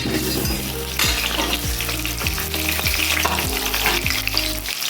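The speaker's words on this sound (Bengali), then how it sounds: "এই তেলের মধ্যে আমি দিয়ে দেবো মাছগুলো ভেজে নেব।" Fish head pieces frying in hot oil, a loud, dense crackling sizzle throughout with repeated rhythmic spatula scrapes and knocks against the pan, up close and with no talking.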